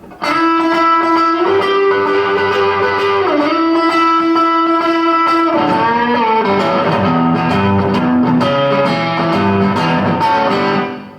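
A Taylor acoustic-electric guitar pushed through heavy distortion, loud sustained chords ringing out, then a busier strummed and picked passage with sharp attacks, with no voices.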